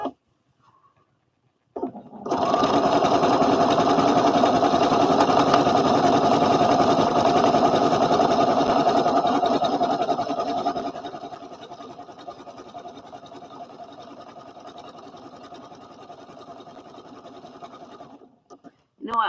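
A sewing machine stitches fabric in one long continuous run, a fast steady whirring hum. It starts after a short pause, eases slightly softer partway through, then stops abruptly, close and clear with no talking.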